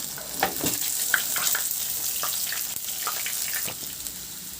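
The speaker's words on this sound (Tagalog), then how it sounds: "Sa disim na kawali, binawasan ko lang din yung mantika, igisa ko na rin yung bawang" Garlic sautéing in a small amount of oil in a frying pan: a steady close sizzle with light scattered crackles and soft stirring scrapes, and no one talking.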